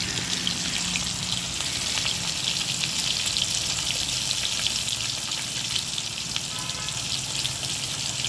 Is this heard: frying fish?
yes